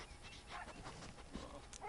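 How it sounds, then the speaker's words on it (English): A Labrador Retriever in a video game makes soft, faint dog sounds, brief whimpers and light barks in short bursts over a quiet game backdrop. "Labrador Retriever."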